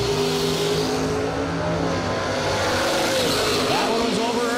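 Drag racing cars accelerate hard down the strip, a loud, continuous engine roar that holds for the whole stretch beneath an announcer's running commentary.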